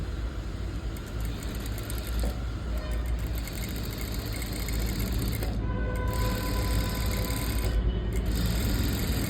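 A sewing machine attaches a puff net sleeve to a blouse with a continuous, steady mechanical hum and rattle that stays close and even throughout, and no one talks.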